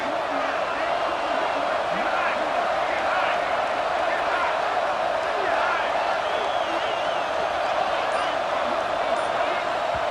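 Stadium crowd noise from a college football video game with UCF in the red zone late in the game, a steady roar of cheering that holds loud and constant throughout with no clear pauses.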